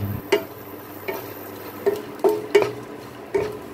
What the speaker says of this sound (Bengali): কারণ কিশমিশটাকে এটার সাথে খুব ভালো করে একটু ভেজে নেব।